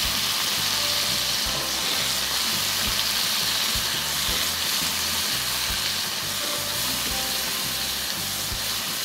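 Long beans being stir-fried in a pan with fragrant fried shallots, a loud, steady sizzle with faint stirring scrapes throughout, no talking.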